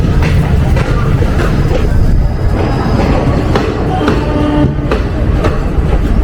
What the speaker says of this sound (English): this is the morning boarding train scene in a typical town